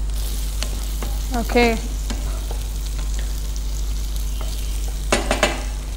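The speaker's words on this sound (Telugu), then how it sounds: "ఈ క్యాప్సికమ్ ఆనియన్స్ కానీ కొద్దిగా ఫ్రై అవ్వాలి" Capsicum and onions fry in a pan with a steady sizzle and low hum, broken by a few spoon clinks and scrapes. A voice speaks briefly.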